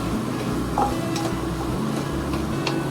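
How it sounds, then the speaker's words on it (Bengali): Garlic paste fries in oil over a medium flame, a steady, moderately loud sizzle with a few light stirring scrapes on top. "ভালো করে এটাকে একটুখানি মিডিয়াম সিমে আপনাকে কষাতে হবে"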